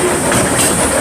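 A steady rumble and rattle of a small amusement park train ride at Six Flags Over Texas rolling along on its track, continuous and fairly loud, with no voices.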